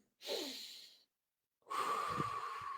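Two deep, slow breaths close to the microphone for relaxation and meditation: a long inhale, a pause of silence, then a second long airy breath, with no talk.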